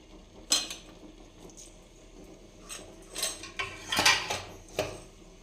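Mustard seeds in hot oil in a kadhai, the first step of a spicy ambadi (roselle leaf) chutney, crackle and pop as sparse, sharp ticks and clinks that come in irregular, scattered bursts.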